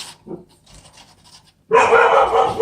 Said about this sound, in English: And that's my dog, very unhappy puppy right now.